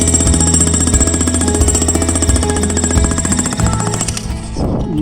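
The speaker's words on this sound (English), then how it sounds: "We'll jackhammer some holes, get the forks into the holes" A loud, close jackhammer pounds holes into concrete at a construction site, its rapid hammering nearly continuous, pausing briefly near the end.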